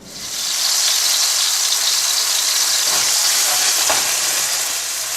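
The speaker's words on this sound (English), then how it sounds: "I'm going to brown this nicely on both sides before we start boiling it." Loud, steady sizzling of beef browning in a hot pan, close up, rising quickly and holding at a constant hiss.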